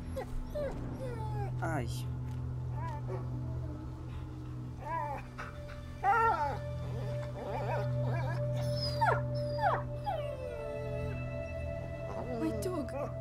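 A dog whimpers and yelps in A Plague Tale: Innocence, a series of short high whines scattered over a low steady hum, with voices speaking between the cries.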